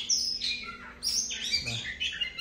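Oriental magpie-robin calling alone with bright, varied whistled phrases and chirps, a rapid run of close, fairly loud notes sliding up and down over a faint low background hum.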